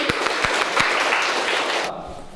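Brief burst of applause from a small group of students at a high school theatre workshop, close individual claps audible in the mix, fading out after about two seconds.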